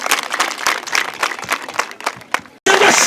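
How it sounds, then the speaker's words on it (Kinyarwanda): An audience at an outdoor youth tree-planting event applauds the arriving guest, dense clapping that pauses briefly before a loud final burst. "bongere munize amashyi tumushimire"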